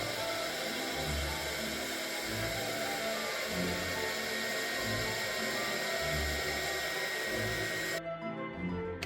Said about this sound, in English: when the embossing fan is melting the embossing